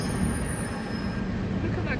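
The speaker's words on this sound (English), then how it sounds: "So our train's now pulling into the platform towards Mill Hill East." A London Underground train pulls into a station platform toward Mill Hill East, with a steady loud rumble of wheels and carriage noise and faint high squeals, close and continuous throughout.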